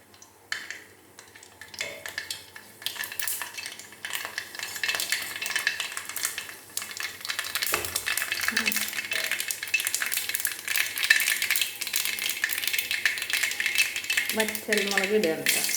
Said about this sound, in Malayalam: വെളിച്ചെണ്ണ നല്ലപോലെ ചൂടായിട്ട് നമുക്ക് അതിലേക്ക് കടുക് പൊട്ടിക്കാം